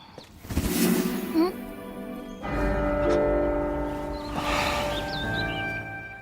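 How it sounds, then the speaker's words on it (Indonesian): A bell rings out and its tone hangs and decays, struck again partway through, with speech-like sounds around it. "suara lonceng lagi-lagi mengganggu pikirannya membuat dia tersadar kembali"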